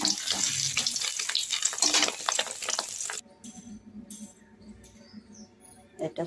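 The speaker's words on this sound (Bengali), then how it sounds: "আমার এই পকোড়াগুলো দেখুন এক পিঠ ভাজা হয়ে গেছে। এবার উল্টে দিচ্ছি।" Fish egg pakoras sizzle loudly in hot oil for a few seconds and are then flipped, after which the frying drops to a quieter, steady bubbling with a few faint clinks.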